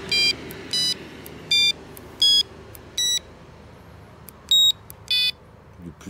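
A carp fishing bite alarm gives eight short electronic beeps at about one per second, its pitch shifting between high and low tones as the setting changes, with faint background noise.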